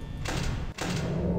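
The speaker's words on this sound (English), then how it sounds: "Close the doors." Doors closing in the horror video game Five Nights at Freddy's, two dull thuds a moment apart over a low background hum, no talk.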